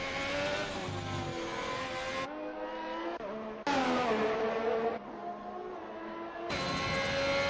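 Race cars in the F1 2021 video game at a Belgium round scream past in high-revving engine notes, with abrupt shifts as the view changes between cars and pitch climbing and dropping through gear changes, loud and continuous without talk.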